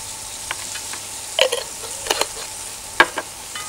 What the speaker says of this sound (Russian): Черный перчик я измельчаю в ступочке